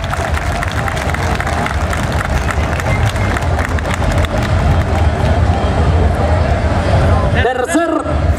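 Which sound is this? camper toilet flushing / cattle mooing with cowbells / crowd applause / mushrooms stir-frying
crowd applause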